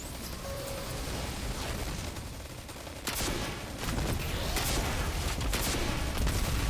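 Rocket launcher fire and explosions in the video game Destiny 2, a dense barrage of booming blasts and crackling gunfire that grows louder in the second half, with sharp bursts around the middle and near the end.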